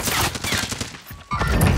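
Rapid gunfire in Call of Duty: Modern Warfare Plunder multiplayer, a dense burst of sharp reports over the first second, a brief lull, then more close, loud shots.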